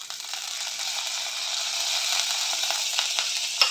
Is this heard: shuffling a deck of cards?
no